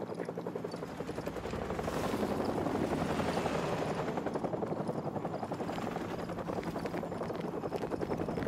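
Helicopter in Call of Duty Modern Warfare Remastered, a continuous throbbing rotor beat that swells into a nearby pass and then holds steady.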